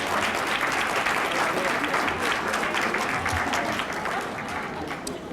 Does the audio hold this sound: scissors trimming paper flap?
no